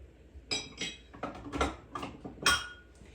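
Ceramic bowls and dishes clatter and knock together as one is pulled from a stack in a kitchen, a quick run of close, sharp clinks and taps.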